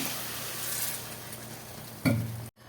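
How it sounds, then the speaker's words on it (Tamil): A steady sizzle of gravy frying in a pan, then a sudden louder hiss and bubbling burst near the end as water is added, before it cuts off abruptly. "இப்போ கொஞ்சம் தண்ணி விட்டு கொதிக்க வைக்கலாம்."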